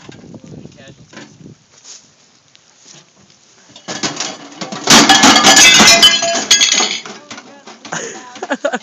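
A glass object shatters inside a microwave oven, a loud burst of crackling, clinking breakage close by that tapers into scattered tinkles, with people talking before and after.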